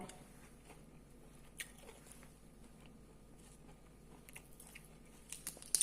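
Quiet, close crunchy bites and chewing on crisp fresh raw vegetables, scattered irregularly through a faint background, with a few sharper crunches near the end.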